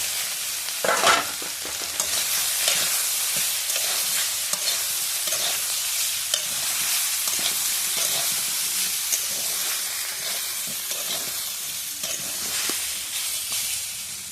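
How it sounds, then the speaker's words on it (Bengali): Soya chunks and potatoes fry in a hot pan with a dense, continuous sizzle and hiss, while a spatula turns them in repeated scraping strokes close by for a long stretch, with no talking. "তো আমি এটা আলুর সাথে একটু নেড়ে নেব"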